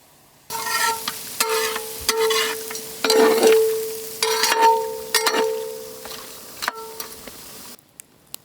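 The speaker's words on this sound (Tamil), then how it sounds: "நல்ல அந்த எண்ணெயில் கறி அழகாக வேகணுமுக்கா." Mutton head meat fries in hot oil, sizzling steadily while a metal spoon stirs it and clangs against the pan in irregular bursts, up close.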